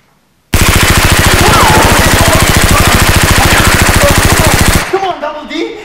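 Rapid Nerf gun fire: a loud, continuous mechanical rattle of very fast, evenly spaced shots lasting about four seconds, close by, then stopping abruptly into quieter background noise.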